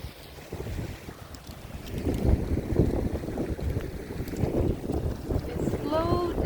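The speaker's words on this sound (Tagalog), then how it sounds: "Tsaka mahangin. Sobrang hangin." Strong wind buffets the microphone on a flooded sidewalk in heavy, gusting rumbles that build and stay loud throughout, with faint background sounds beneath.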